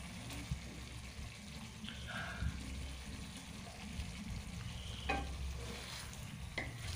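Rohu fish pieces laid one by one into a pan of fried-down spice masala, giving a steady sizzle with soft stirring and scraping touches throughout, with no talking.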